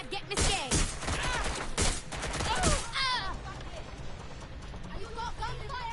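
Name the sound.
gunfire in a video game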